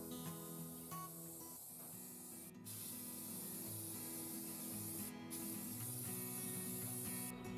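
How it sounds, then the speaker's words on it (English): Rust-Oleum rusty metal primer hisses from a spray can onto a rusty hay feeder in long, continuous close bursts, with brief pauses between passes. "we've got some Rust-Oleum rusty metal primer, and we're going to put this on"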